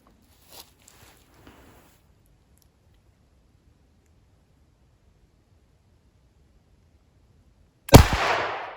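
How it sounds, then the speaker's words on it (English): A 12 gauge shotgun loaded with a Brenneke slug fires once at a bowling pin, a single sharp loud blast with a short echoing tail, after several seconds of near silence and a few faint handling clicks. "Turn the safety off and fire away"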